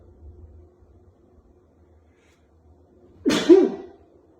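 After near silence with a faint low murmur, a single sharp sneeze bursts out, loud and close.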